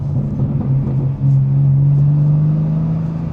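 A BMW M4 G82 engine drones loudly and steadily under driving load, its deep tone holding firm and creeping slightly higher in pitch over a few seconds, heard close from inside the car with no talking.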